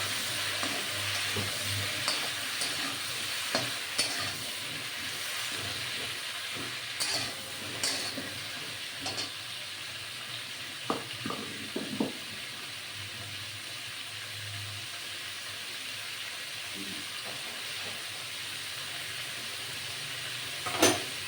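Mango pickle pieces with salt and turmeric fry in a pan, giving a steady sizzle with scattered stirring scrapes and clinks throughout, fairly quiet and without any talk.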